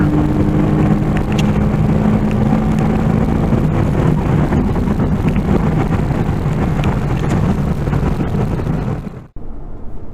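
A base Porsche Cayman accelerates at full throttle in a ride-along, its engine roaring loud and continuous under heavy wind buffeting, then cutting off abruptly near the end.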